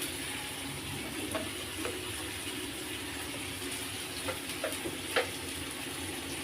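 Ginger and spice paste sizzle in a pan while being stirred, for a Bengali pointed gourd and prawn dish. The steady frying hiss runs throughout, with occasional light clinks and scrapes of the spoon against the pan.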